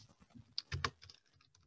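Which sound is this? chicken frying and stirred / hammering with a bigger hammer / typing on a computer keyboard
typing on a computer keyboard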